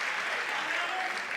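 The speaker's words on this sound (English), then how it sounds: "Ruiz and the fans applauding." Padel crowd at a championship match applauding a full-length diving shot, a steady wash of clapping sustained throughout, fairly distant and dense with no distinct voices.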